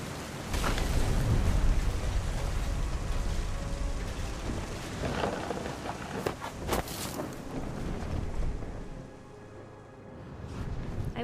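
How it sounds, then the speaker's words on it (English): Stormy weather in the video game What Remains of Edith Finch: steady rain and rushing wind, with low rumbling thunder and a few sharp nearby cracks, loud and continuous before easing toward the end. "The thunder sounded much too close and full of angry power"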